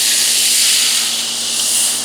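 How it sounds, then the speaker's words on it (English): Red wine poured into a hot pan to deglaze it for beef bourguignon, giving a loud, steady steamy hiss and sizzle that holds throughout without talk. "we're gonna deglaze our pan with 2 cups of your preferred red wine"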